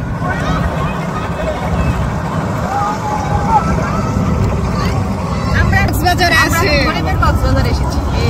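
A steady low engine drone of boats on the water, with a murmur of people talking throughout.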